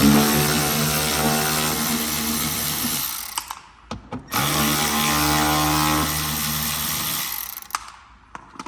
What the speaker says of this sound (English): You basically just want to take your electric ratchet or whatever.